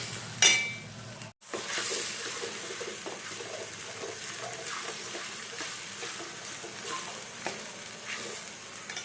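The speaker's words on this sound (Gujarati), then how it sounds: "એ ગ્રેવી નાખી દઈએ. બધું કરી દઈએ મિક્સ." Gravy stirred into a pot of cooking chickpeas, a soft continuous sizzle with wet scraping and stirring strokes close by, no talking.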